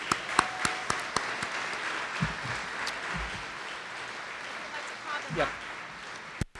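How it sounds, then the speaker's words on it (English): Scattered applause for valedictorians and honorees at a Rochester school recognition ceremony with the mayor, a few sharp individual claps over a soft, distant crowd wash. "How about a big round of applause for all our valedictorians and honorees?"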